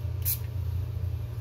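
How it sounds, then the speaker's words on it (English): A single short hiss of makeup setting spray misted onto a blending brush, brief and close over a low steady background hum. "and then I'm going to spray it."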